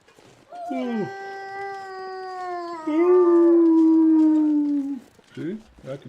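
A dog called Wolfie gives close, loud, drawn-out howls in two long sustained wails that dip and rise in pitch, followed by short yelps at the end.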